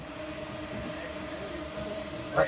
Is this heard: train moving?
yes